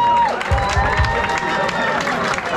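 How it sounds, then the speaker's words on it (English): Concert audience at a Law Rocks charity gig in Paris clapping and cheering, a dense crowd roar with a few low thumps early on, steady and fairly loud. "So give yourself a round of applause"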